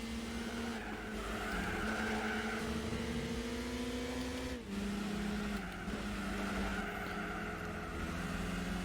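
A car squeals and skids under braking in Gran Turismo 4, its tyres screeching in long wavering tones over a steady engine drone, with a short break midway before the screech returns.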